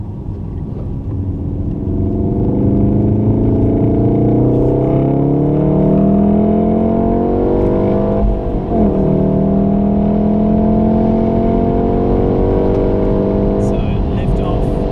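A Golf R's engine on the Wakefield track is driven hard on the throttle, a loud, close, steadily rising drone that climbs through the revs as the car accelerates.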